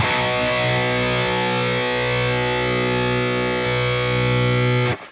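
Heavily distorted electric guitar through a free Mesa Dual Rectifier Rev 1 amp simulator, a thick sustained high-gain chord ringing loud and steady for about five seconds before cutting off abruptly.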